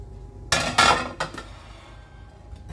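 Ceramic bowl or plate clattering and clinking as it is handled in a home kitchen, two sharp close knocks followed by a lighter clink, then quiet room tone.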